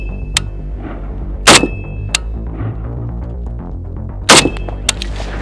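An AKM rifle fires at steel targets on a fairly flat outdoor range: several sharp, loud reports spaced irregularly, each followed by a ringing clang of struck steel, with quieter metallic pings between shots.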